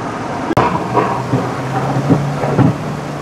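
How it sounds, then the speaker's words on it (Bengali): A sharp, close thunder crack during a hill storm at Ajodhya Pahar, Purulia, followed by ongoing rumbling and steady rain, with no talk. "প্রচন্ড জোরে বাজ পড়ছে এবার, আর এক্ষুনি কাছেই একটা পড়লো"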